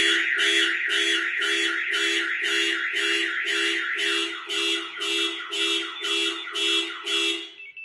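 A Compustar security system car alarm sounds loud and close, sounding a steady run of about a dozen rapid, evenly spaced electronic chirp bursts with no voices.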